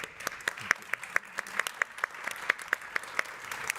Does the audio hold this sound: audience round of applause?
yes